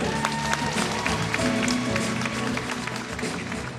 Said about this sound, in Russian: давайте бурные аплодисменты!